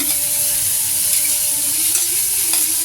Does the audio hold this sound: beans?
yes